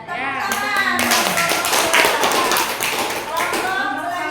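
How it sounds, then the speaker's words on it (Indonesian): A classroom group claps for group 2 during a peer-teaching coding session, a few seconds of dense hand claps with voices talking and calling out over them. "Ya, tepuk tangan."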